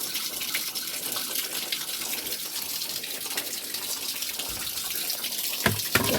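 Tap water runs steadily while lemongrass is rinsed under it, a close, even rushing gush that fills the whole stretch, with a brief clunk near the end.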